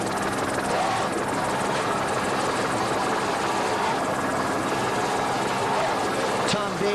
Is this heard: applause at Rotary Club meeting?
no